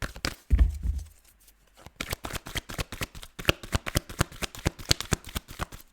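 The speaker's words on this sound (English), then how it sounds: "I don't just shuffle forever and ever just cause. I'm waiting for Spirit to pick the cards instead of me." A deck of tarot cards is shuffled by hand nearby in a fast, steady run of crisp riffling snaps. A brief low thump opens the sequence and no one speaks.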